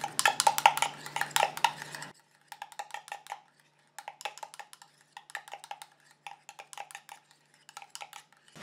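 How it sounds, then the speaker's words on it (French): Stirring homemade day face cream in a container: a short dense scrape, then light intermittent clinks and scrapes of a utensil against the container, quiet and close. "Je mélange."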